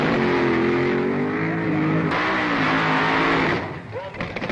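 A 1969 drag racing funny car engine revs loud and close, a steady high-pitched roar that bends in pitch midway and then drops away into rumbling noise near the end.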